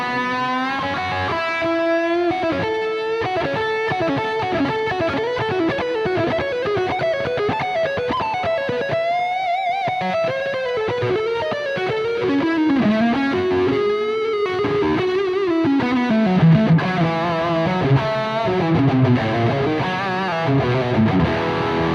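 High-gain lead guitar through a Neural DSP Soldano SLO100 amp plugin, an overdrive pedal in front, ping-pong stereo delay and hall reverb, plays fast distorted runs and sustained bends, loud and continuous with no voice.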